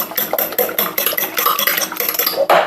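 Eggs and vanilla get beaten in a bowl with a utensil, quick rhythmic clicking and tapping strokes, close and fairly loud, with no voice.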